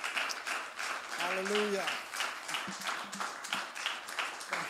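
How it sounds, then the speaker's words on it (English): A church congregation claps together during a service, a run of fairly close, evenly spaced hand claps sounding alongside a voice calling out, with the clapping continuing after the voice stops. "Give the Lord a big hand clap today."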